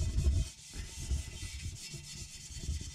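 Hand sanding of old orange paint on a wheel rim resting on a trestle, a steady scratchy rubbing that comes in repeated strokes, close and moderately loud, with no talking.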